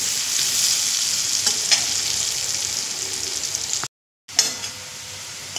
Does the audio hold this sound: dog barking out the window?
no